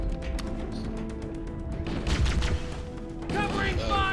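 Gunfire in the video game Halo, a rapid rattle of shots with game effects and music, dense and close, with a voice speaking over part of it.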